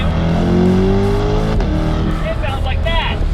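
A 2021 Chevrolet Corvette C8 convertible's mid-mounted 6.2-liter naturally aspirated pushrod LT2 V8 with performance exhaust revs loudly and close, a steady rising drone that drops sharply mid-way, then sweeps up and down again.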